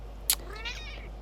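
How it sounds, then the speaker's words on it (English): A cat gives a single loud meow, drawn out and falling in pitch, after a brief sharp click, over a low steady hum. "I don't know if you guys heard her meow."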